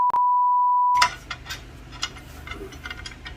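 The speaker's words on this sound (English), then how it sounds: "you're going to hear a lot of beep, beep, beep, beep" A single loud, pure censor tone sounds for about a second, briefly broken at the start, then gives way to faint workshop clatter and ticking in a garage where an engine is being removed.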